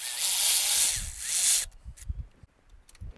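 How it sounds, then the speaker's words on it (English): Power tool spinning out a 10 mm bolt during alternator replacement on a 2010-2012 Toyota Camry 2.5L: a loud, steady whir lasting over a second, then quieter clicks and handling knocks. "we now have to take this 10 millimeter bolt out of here"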